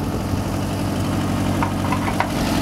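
A Toyota 20R engine idles under the open hood of a Toyota motorhome, a steady close rumble with a low, even pulse and a few faint ticks over it, no voices.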